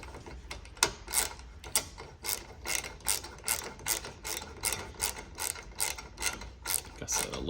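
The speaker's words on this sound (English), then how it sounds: "I love this little ratchet for Allen bits" A small hand ratchet fitted with an Allen bit loosens seatbelt harness bolts on a Yamaha RMAX2, giving a steady run of crisp, close ratcheting clicks in regular bursts, with no voices.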